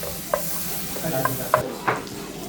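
Tofu sizzles loudly in a hot pan while being stirred, a dense continuous crackle punctuated by several sharper scraping clicks of the utensil, close and with no talk.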